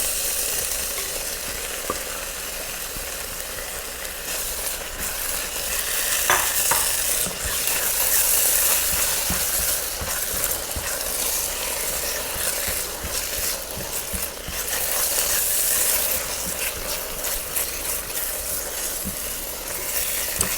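Pumpkin halwa with sweetless milk kova is stirred in a pan, a steady sizzling hiss broken by frequent scraping and clicking spoon strokes, continuous and close with no talking.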